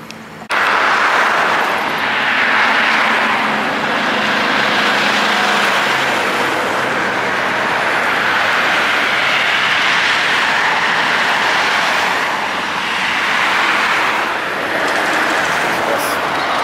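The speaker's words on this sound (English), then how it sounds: "here comes the bus" A city bus engine drones steadily from on board the moving bus, a continuous broadband rumble with gentle swells in loudness throughout.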